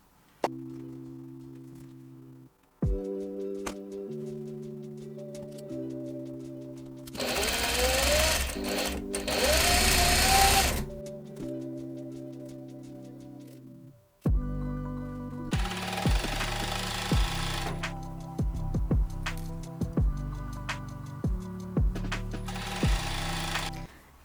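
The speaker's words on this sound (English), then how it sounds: "I'm kind of just literally sewing how I've pinned it" A sewing machine stitches pleats on a men's shirt, running in long steady bursts with pauses, close and fairly loud, with fast, even needle chatter.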